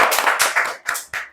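An audience at a live talk show claps in short, uneven bursts of hand claps that rise and fall over about a second, fairly close and loud, with no talking.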